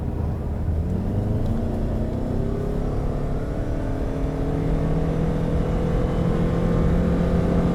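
A 2017 Toyota Camry Hybrid accelerates hard during a performance test, its engine rumble rising steadily in pitch and staying loud and continuous throughout, with no talking.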